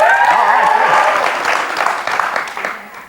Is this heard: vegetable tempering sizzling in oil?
no